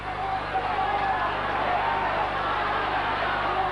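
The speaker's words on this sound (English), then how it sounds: "Crowd really setting up a chant now" Crowd noise from a 1982 rugby league match between Balmain and St. George, a dense, steady roar of many voices with chant-like swells, continuous and fairly loud throughout with no clear speech on top.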